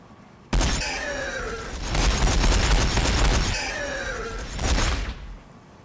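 Heavy gunfire in a Warhammer 40,000 video game battle of Orks against Tyranids, cutting in abruptly as a loud sustained burst that builds and swells twice before stopping.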